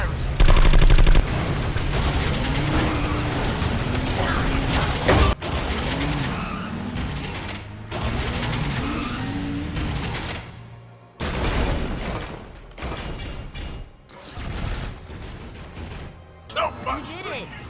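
Weapon fire and explosive blasts in the Transformers 2 video game, heavy bursts and rumbling impacts layered with engine roars and skids, mixed with in-game character voices and a music bed throughout.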